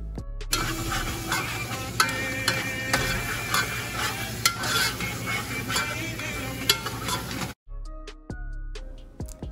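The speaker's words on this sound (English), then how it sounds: "So you're just gonna stir and make sure that everything is good" Onions and Haitian epis fry in a pan as a spoon stirs them, a steady broadband sizzle with repeated scraping clicks, then a sudden drop to quieter frying near the end.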